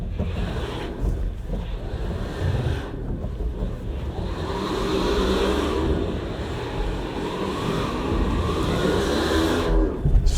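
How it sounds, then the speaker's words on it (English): A medium SUV climbs an off-road hill, its engine droning low and rising steadily as the throttle is held, with loud wind buffeting and rumble over the microphone throughout. "I'm going to roll onto the throttle now"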